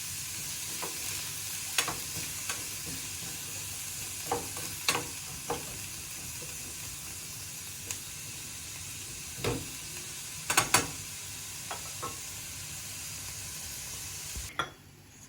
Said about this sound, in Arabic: من بعد ما دبلت لينا البصيله ديالنا